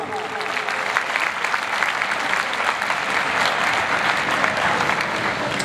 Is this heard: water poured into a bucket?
no